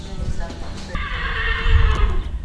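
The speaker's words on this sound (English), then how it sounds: "Here we see a very striking 3-year-old Appaloosa." Whinnying of a striking 3-year-old Appaloosa horse in a riding club yard in Ireland, one loud high neigh rising and wavering, with faint hoof clops and low rumble underneath.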